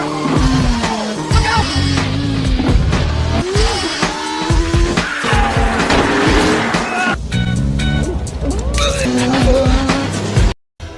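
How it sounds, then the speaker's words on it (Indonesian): Car chase from the Transporter film, with Frank's car pursued by police cars: continuous loud engine roar and revving with repeated rising tire squeals and skids, sharp impacts, and a brief drop to silence near the end. "Terjadilah kejar-kejaran antara mobil Frank dengan mobil polisi"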